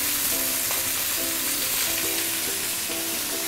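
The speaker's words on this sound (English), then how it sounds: "we are going to pan fry the fish and saute our ginger at the same time" Ginger sautes in hot oil in one pan while fish pan-fries alongside, for a sour fish soup. The sizzle is a steady, dense hiss throughout, with faint tonal hum and light clicks beneath and no talk.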